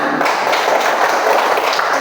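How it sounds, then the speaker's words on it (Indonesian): Children clap together in a classroom, a loud, dense burst of many small hands slapping close by, steady and unbroken throughout. "Ayo tepuk tangan bersama-sama."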